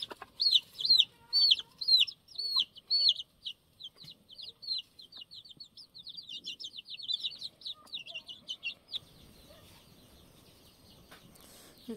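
Chicks kept indoors at a countryside home cheep in rapid, high, repeated peeps close by, with the calls thinning out and fading after several seconds.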